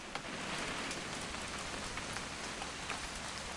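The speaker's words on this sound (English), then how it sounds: "It's gonna rain the whole weekend, isn't it?" Steady rain falls in a video game during a hunting trip scene, a dense, even hiss of drops on surfaces, continuous and moderately soft with no talk over it.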